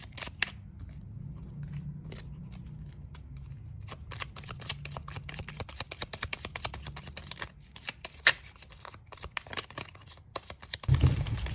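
Tarot cards being shuffled by hand, a steady stream of soft crisp riffling and slapping that grows busier and louder toward the end, with a low hum underneath and no talking.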